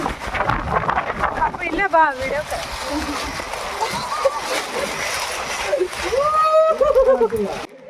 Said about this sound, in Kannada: ಜಲಪಾತದೊಳಗೆ ನೀರು ಹೆಂಗೆ ಬೀಳ್ತಾವಪ್ಪ ಕೆಳಗೆ ಬೀಳ್ತಾವ